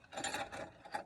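Ratchet socket wrench clicking as it works a bolt loose on the alternator of a 1994 Chevrolet K1500 stepside pickup with a bad alternator; a quick burst of close, rapid pawl clicks with no talk.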